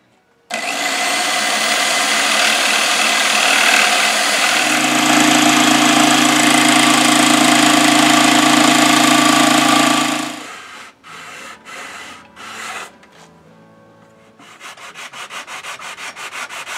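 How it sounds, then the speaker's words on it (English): A jigsaw trims a thin slice off a board so it fits an amplifier chassis in a Marshall JTM30 build. The loud, steady motor whine runs about ten seconds, then stops, followed by scattered clunks and handling noises. "uses his jigsaw to take a small slice off the board to thin it out to fit the chassis"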